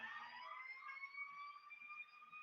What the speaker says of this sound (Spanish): Como hay bastante tráfico, no lo dejan pasar al camión de bomberos.